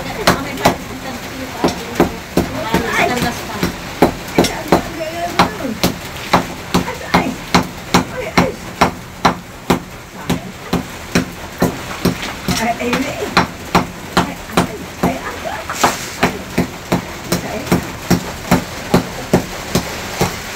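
Hammer blows strike while a cage is being repaired, a long run of sharp, evenly spaced knocks close by, roughly two each second, for about twenty seconds. Voices talk between and over the hits.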